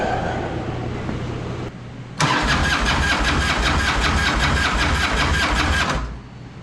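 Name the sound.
abandoned Harley motorcycle engine starting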